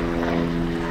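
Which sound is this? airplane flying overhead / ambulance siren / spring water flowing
airplane flying overhead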